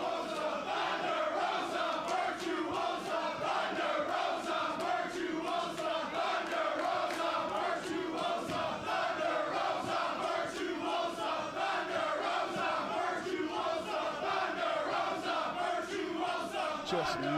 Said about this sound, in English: Just listen to this crowd. It is split and divided right now.